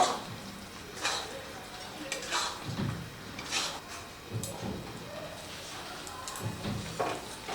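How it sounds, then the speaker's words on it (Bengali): Maggi noodle balls gently stirred into simmering Manchurian sauce, with soft, intermittent scraping and bubbling in a few separate strokes over a low, steady background. "বলগুলোকে দিয়ে হালকা হাতে একটু নাড়াচাড়া করে নেব।"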